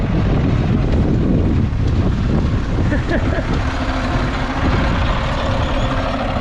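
MTZ tractor running without its loader while sowing in a dry autumn field, a loud steady engine drone heavily mixed with wind buffeting, with people talking over it.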